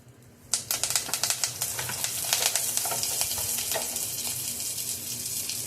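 Mustard seeds, dried chillies and garlic hit hot oil in a pan, bursting into a loud, close sizzle with rapid crackling pops that settle into a steady frying hiss.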